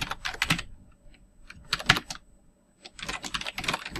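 Typing on a computer keyboard while writing code for a Raspberry Pi game, with quick bursts of key clicks separated by short pauses, close and alone.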